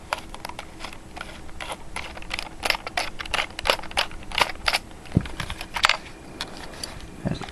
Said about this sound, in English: Alright, so just unscrew this screw.